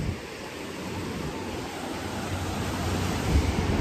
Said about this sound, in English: We have a big explosions of waves over here, of course.